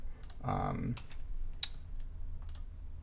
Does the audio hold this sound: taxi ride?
no